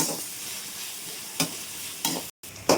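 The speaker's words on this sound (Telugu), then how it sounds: "ఇప్పుడు ఉల్లిపాయలు వేసుకొని మరో 2 నిమిషాలు ఫ్రై చేసుకోవాలి" Onions sizzle in a pan with garlic and green chillies for street-style paneer fried rice, a close steady hiss broken by a few quick stirring scrapes, with one brief silent gap.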